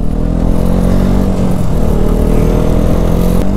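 Motorcycle engine straining hard on the climb to Umling La Pass at about 19,300 feet, a loud, steady low-pitched drone with a constant labored rumble, close up and uninterrupted.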